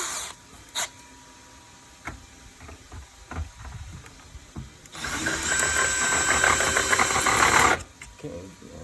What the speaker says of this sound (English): we'll try drilling it straight into the wall with the small masonry bit